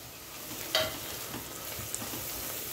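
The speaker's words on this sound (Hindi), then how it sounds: "थोड़ा सा चलाएंगे, बस मसाले थोड़े से हल्के से भुनने चाहिए" Garlic, green chili and turmeric fry softly in a pan while being stirred, a low steady sizzle with a few light scraping clinks, close and unaccompanied by talk.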